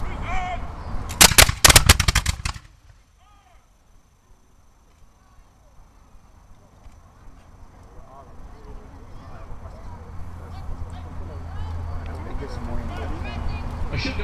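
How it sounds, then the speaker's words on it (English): A 3-pounder artillery gun fires at a historical reenactment at Fort York, a loud close burst of blasts early on, followed by quiet outdoor ambience and a growing crowd murmur. "They're loading and firing a 3-pounder."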